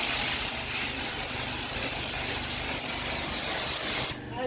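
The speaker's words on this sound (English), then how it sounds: "Power washer, that's the turbo nozzle." A power washer fitted with a turbo nozzle blasts a pump with a loud, continuous broadband hiss of spraying water that holds steady for about four seconds before cutting off.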